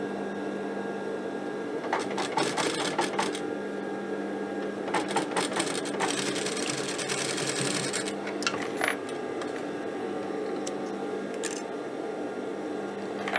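A sewing machine stitches a trouser crotch seam with a soft, steady whir broken by clusters of sharp mechanical clicks and ticks at close range.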